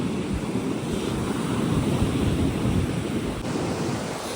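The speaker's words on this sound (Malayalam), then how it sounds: "ഭയങ്കര കാറ്റാ." Strong wind roars and buffets the microphone in a continuous low rumble, steady and loud throughout with no voices.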